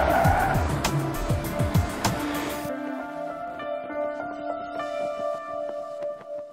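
A Mercedes-Benz van slides on a skid pan with ESP, tyres squealing and skidding loudly in rapid bursts over the engine. The noise then drops to a quieter engine drone with a steady tone.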